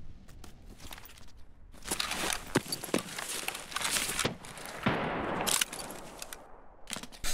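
Repeated gunfire in Escape from Tarkov, including a nearby .338 rifle, with sharp shots spread through a busy firefight and scattered impacts and clatter between them.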